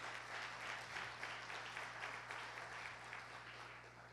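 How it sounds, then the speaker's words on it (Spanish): A church congregation claps in praise during a service, a sustained wash of many hands applauding at a distance under a low hum. "Dale un fuerte aplauso al Señor."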